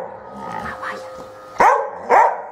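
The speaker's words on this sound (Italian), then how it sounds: "Abbaia, abbaia, abbaia." A dog gives two sharp barks close by, following a stretch of softer vocal sounds and background noise.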